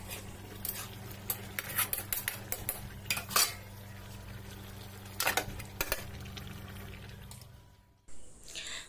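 Fish tipped into a hot pan and stirred in a home kitchen, with quiet clinks of a spoon against the pan and soft sizzling under a steady background hum, followed by a short thump.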